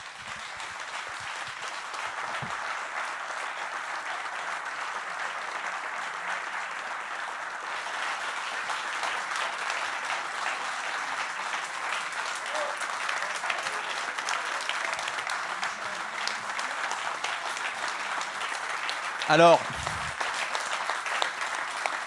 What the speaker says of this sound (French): on l'aurait encore applaudi très longtemps